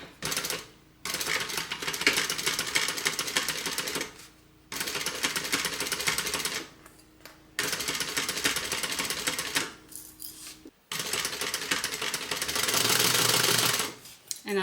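A sewing machine stitches a handbag flap on a Calvin Klein inspired asymmetrical handbag in several bursts of rapid mechanical chatter, each run separated by short pauses, close and clear.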